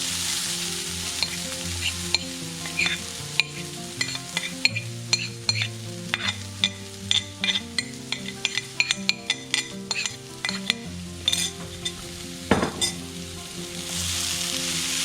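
Shrimp thoran, a coconut shrimp stir fry, sizzles loudly in a pan. Frequent sharp clicks and clinks of a utensil stir through it, with a steady tonal background underneath. No one speaks.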